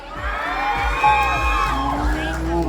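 A crowd cheering and whooping for a competing team at a festive som tam papaya salad dance contest at a Red Cross fair in Bueng Kan, loud mixed shouts and yells carrying over amplified music.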